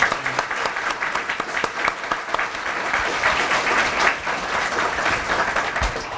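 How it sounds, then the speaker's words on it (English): An audience applauds donors at a homecoming clinic support announcement, a steady, full wash of clapping that fills the room for several seconds, loud and continuous without speech over it. "Let's give them a round of applause."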